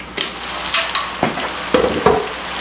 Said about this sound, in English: Next, we're going to add the broccoli